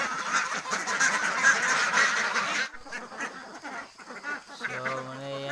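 Ducks at a feeding, a busy cluster of quacking calls that fills the first half, then thins out into scattered calls with a low steady hum near the end; a voice speaks briefly.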